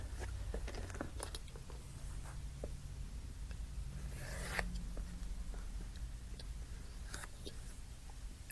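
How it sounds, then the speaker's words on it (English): A pencil marking out a leather wallet lining, producing soft scratchy strokes and light ticks that come in short bursts, close by and faint, with occasional handling noise. "mark out my lining slightly bigger, just kind of rough it out, mark it with a pencil"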